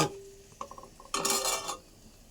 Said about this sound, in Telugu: జీడిపప్పు, కిస్మిస్ నేతిలో వేపాలి.